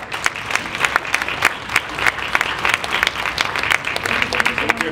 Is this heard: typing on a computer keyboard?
no